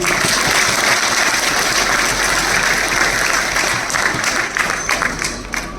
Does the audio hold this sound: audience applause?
yes